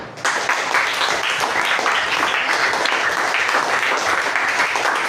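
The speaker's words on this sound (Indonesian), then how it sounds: "Tepuk tangan dulu buat Rasya." Classmates at a school session clap for a student named Rasya, a sustained crackle of many hands that starts abruptly and holds steady at an even level throughout.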